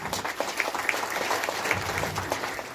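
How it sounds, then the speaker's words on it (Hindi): A room full of people claps loudly and steadily for Dashrath sir at a business gathering, a dense continuous patter of hands lasting a few seconds with no talk over it. "मैं चाहती हूँ एक बार दशरथ सर के लिए जोरदार तालियां"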